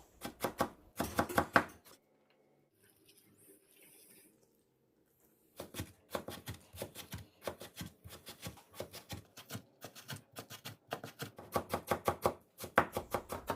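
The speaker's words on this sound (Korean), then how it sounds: "잠시 칼질 소리 들어보세요." Rapid knife chopping of salted cabbage and radish on a cutting board, steady bursts of sharp taps with a short pause midway, close and fairly loud, no talking.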